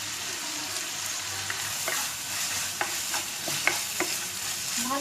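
Chinese fried rice with garlic powder, black pepper and black salt stirred in a frying pan: a constant sizzle with light, irregular scraping taps of a spatula.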